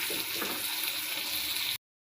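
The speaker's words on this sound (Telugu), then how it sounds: "బ్రౌన్ కలర్లో బాగా ఎర్రగడ్డలు తెల్లగడ్డ బాగా వేగాలండి." Onions and garlic frying in oil in a pan, a dense close sizzling hiss that runs steadily before cutting off abruptly.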